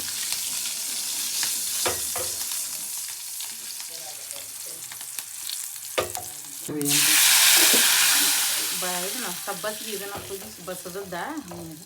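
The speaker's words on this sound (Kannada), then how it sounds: "ಬೆಳ್ಳುಳ್ಳಿ, ಒಣ ಮೆಣಸಿನ್ಕಾಯಿ, ಸ್ವಲ್ಪ ಹಿಂಗ ಹಾಕಿ ಹುರ್ಕೋರಿ. ಫ್ರೈ ಮಾಡಿ" Garlic, dry red chillies and asafoetida fry in hot oil, crackling with stirring clatter before a loud sizzling burst midway that settles into steady frying hiss.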